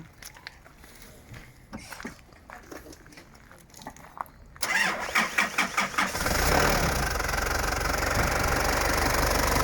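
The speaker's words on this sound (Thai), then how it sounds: "พี่ติสตาร์ทเครื่องยนต์หน่อยครับ" A stock 3000 cc turbo diesel car engine cranks and catches after a quieter stretch, its starter rattle giving way to a loud, steady, close diesel idle that fills the remaining seconds.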